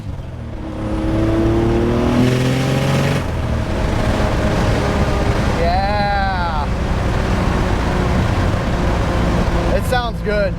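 A project car with open wastegates accelerates hard through second gear around 30, a loud continuous engine roar with rising pitch and a faint backfire pop near the end, while a person briefly speaks.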